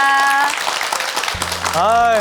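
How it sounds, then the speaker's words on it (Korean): A studio audience on a Korean television show claps in a short, dense burst. A voice speaks just before it, and tonal sounds follow. "여러분 다시 한번 박수 보내주시겠습니까?"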